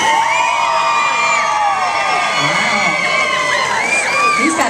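A crowd at an outdoor block party cheers, whoops and shouts loudly for a contestant in a men's high-heels best-leg contest, with children's shrieks mixed into a steady, dense roar that lasts throughout.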